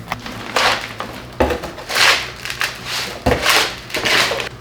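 Potting soil for soil blocks being stirred with water in a bin, giving repeated close, gritty scraping and crunching bursts in a loose rhythm, about five or six strokes with no talking.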